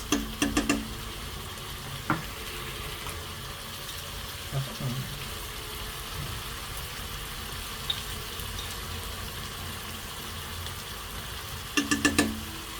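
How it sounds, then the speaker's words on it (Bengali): Turmeric and coriander powder being sautéed in a pan for bhuna khichuri, a low steady sizzle broken by a few sharp metal spoon scrapes and clanks at the start and end. "মশলাগুলো খুব সুন্দরভাবে কষাতে হবে।"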